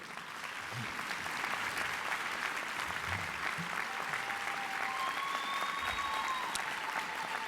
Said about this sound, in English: would you stand and give them a round of applause up there, please?